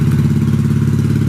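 Hondamatic motorcycle engine idling against a two-step limiter in neutral, a loud, steady, low rumbling drone with a fast pulsing chop, close and continuous throughout.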